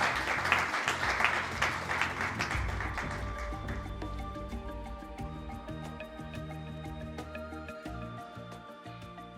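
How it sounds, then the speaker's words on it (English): A burst of audience clapping at an awards ceremony as a speaker comes on stage fills the first few seconds, then fades out as tuned percussion begins ringing out in a steady rhythm. "Can we please give him a round of applause as he comes up on stage?"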